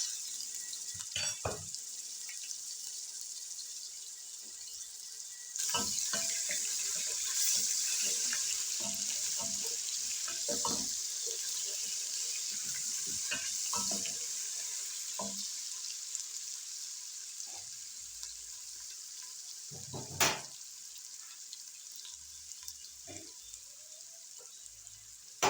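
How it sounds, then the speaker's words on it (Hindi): Ginger garlic paste fries in a karahi with a steady, soft sizzling hiss that runs throughout, broken by occasional faint clinks of a utensil against the pan. "अदरक लहसुन हल्का सा आपने फ्राई कर लेना है"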